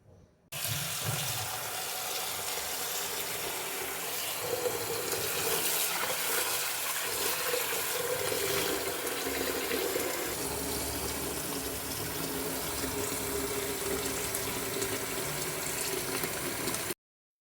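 Running tap water pours steadily over fresh leafy greens being washed in a sink, a continuous close splashing gush with the water shifting in tone as the leaves are moved, no voices.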